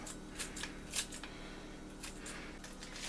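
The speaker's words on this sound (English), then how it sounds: "I'm going to take the rest of the chives and cut them on top" Quiet snips of scissors cutting chives over a creamy pollock dish in a home kitchen, a handful of soft, close clips scattered across a low steady background hiss, without speech.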